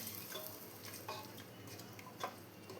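Fried onions are being stirred into a Kerala-style kadachakka (breadfruit) curry, with faint scraping and soft clinks of a spoon against the pot over a low background hiss.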